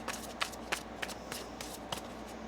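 A deck of tarot cards is shuffled, a soft rhythmic run of riffling flicks and taps, close and quiet with no talk.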